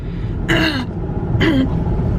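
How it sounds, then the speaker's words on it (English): Two short, rough throat-clearing bursts about a second apart, close and fairly loud, over a low steady background hum. "Now I've got the hiccups every time I clear my throat."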